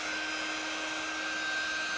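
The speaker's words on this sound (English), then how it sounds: "use a hair dryer on a low setting" Hair dryer on a low setting drying chalk paste, a steady airy whir with a constant hum that runs unbroken at moderate loudness and stays alone throughout.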